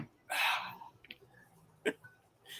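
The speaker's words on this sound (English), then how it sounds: "He's hiccuping." A man hiccups close by, a sharp breathy catch followed by a couple of smaller throat clicks and a second hiccup, with quiet room sound between.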